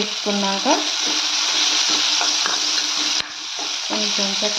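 Bitter gourd pieces frying in a tempering of spices for a kakarakaya pachada, with a constant loud sizzle and repeated stirring scrapes and squeaky utensil strokes against the pan, heard up close.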